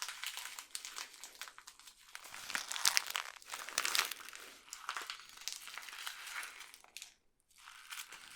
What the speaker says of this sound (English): some people even prefer a bit more of an intense tingle of the paper being crumpled